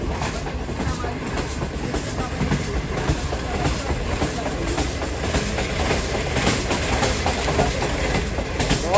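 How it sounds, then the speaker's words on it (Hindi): The Green Line Express, a passenger train in Pakistan, runs at speed as heard from inside the carriage, with a continuous rumble and rhythmic wheel clatter on the rails at a steady moderate level. "ट्रेन बहुत अच्छी स्पीड में आ चुकी है इस वक्त।"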